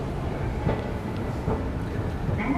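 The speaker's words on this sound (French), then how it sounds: "Donc nous voilà dans la gare de métro de Umeda. Ligne Midosuji." A Midosuji line metro train rumbles through Umeda station in Osaka, a steady low mechanical drone with faint clanks and a brief higher tone near the end, no voices.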